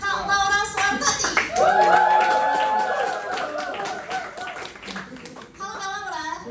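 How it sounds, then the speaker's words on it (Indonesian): An audience at a public speaking event bursts into lively clapping to welcome a speaker, the applause swelling and then thinning out, with voices and some talk over it. "boleh dong nih tepuk tangan yang meriah buat Kak Laura Suwartati."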